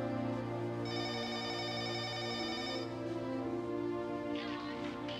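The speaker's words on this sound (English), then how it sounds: "the phone's ringing" A telephone rings in a house with a bright trilling bell pattern over a low steady hum, one long ring burst followed by quieter ringing, with no voices.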